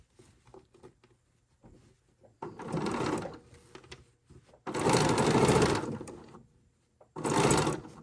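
A sewing machine runs in three bursts of rapid stitching along a zipper edge on a pillow, loud and close, separated by quiet pauses with faint handling sounds.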